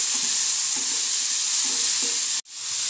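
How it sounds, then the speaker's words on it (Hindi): Tomato being stirred into onions fried light golden brown in a pan, a steady close sizzle with faint scraping stir strokes and a brief cutoff near the end, no talking. "अब हम इसके अंदर डालेंगे 1 बड़े साइज़ का टमाटर। इसे मिक्स कर लेंगे।"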